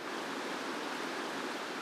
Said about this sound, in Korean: 지금 드레이삽이라는 유명한 폭포에 가고 있는데요. 물소리가 벌써부터 이렇게 들려요.